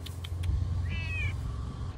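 A cat gives a single short, clear meow in the middle of a quiet room, fairly close and moderately loud over faint background hum.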